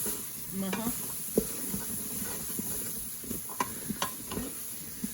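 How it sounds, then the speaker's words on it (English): Curry frying in a pan with pressure-cooked chickpeas, a steady close sizzle broken by scattered stirring scrapes and small taps of the utensil. "Fry the curry. One of my bags of pressure cooked chickpeas."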